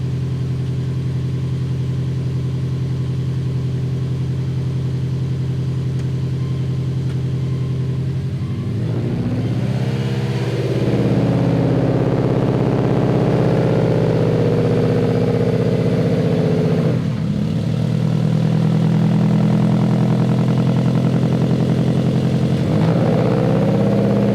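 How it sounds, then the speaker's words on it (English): A Subaru Legacy GT with a built transmission runs with its torque converter locked and spinning, a loud, steady engine drone close by that shifts to a rougher, deeper tone partway through and stays constant to the end. "torque converter is locked to the engine and it's spinning"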